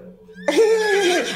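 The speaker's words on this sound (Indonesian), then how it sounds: "Nah itu suara kuda" A horse whinnies loudly and close by, one sustained neigh with a wavering pitch that rises sharply and then falls away, heard at night at a fried chicken factory.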